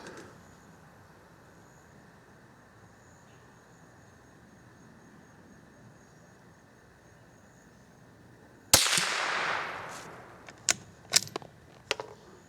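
Single sharp crack of a .22 rimfire rifle firing a truncated hollow point round at a 50-yard range, following a long quiet stretch and trailed by several fainter clicks and knocks.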